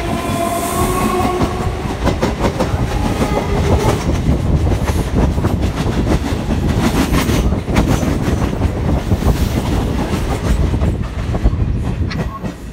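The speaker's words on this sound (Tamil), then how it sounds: "இப்போ பார்த்தீங்கன்னா நான் வந்து Kodambakkam railway station, waiting for train." A train runs through Kodambakkam railway station in Chennai, loud and close, with a continuous heavy rumble and rapid clickety-clack of wheels over rail joints.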